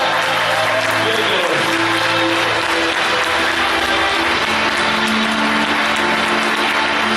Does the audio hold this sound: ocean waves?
no